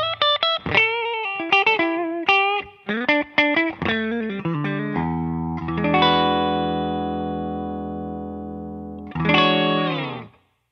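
Electric guitar strung with bright stainless steel strings, played through effects with distortion and chorus: a quick run of sharp picked notes, then sustained ringing chords that fade, and a final strummed chord decaying, with no talking.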